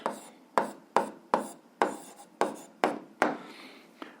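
A pen scratches on paper during an 8th-grade algebra exercise, with about eight short, close strokes that each start sharply and fade, spaced roughly half a second apart.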